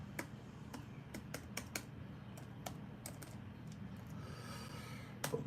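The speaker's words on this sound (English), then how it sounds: "I'm gonna type my password real quick." Password being typed on a computer keyboard for a Raspberry Pi: a run of quick, uneven key clicks with short pauses, close and clear over a low steady room hum, with no one talking.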